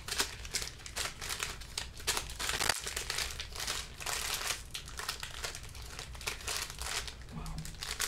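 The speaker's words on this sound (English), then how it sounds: "So we got 6 packs. Give them a shuffle." Sealed Panini Chronicles 2021-2022 NBA/NFL trading card packs crinkle and rustle continuously as they are shuffled by hand, close to the microphone, with one sharp tick in the middle.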